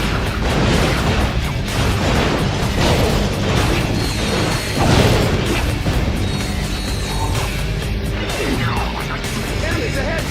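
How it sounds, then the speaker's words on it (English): Loud explosions and crashes from the Ratchet Deadlocked video game, a continuous heavy rumble with repeated bursts over sustained noise and game sounds throughout. "explosions are pretty."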